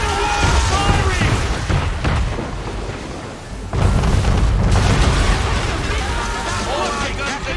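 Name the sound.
warship cannon fire in Assassin's Creed III video game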